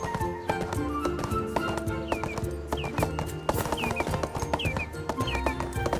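Horses running in the online game ArcheAge, with steady overlapping clip-clop hoofbeats close up and whinnies and neighs breaking in, continuous and fairly loud without any speech.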